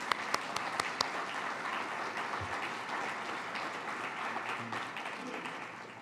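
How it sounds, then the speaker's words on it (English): An audience at the UC Davis business plan competition breaks into sustained applause for sponsors, a steady wash of clapping heard from some distance with a few sharper claps near the start. "So let's give them all a round of applause."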